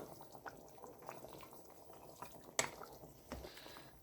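Quiet, soft bubbling and popping of potatoes stewing in water in a pot on low heat, with a couple of faint sharper clicks.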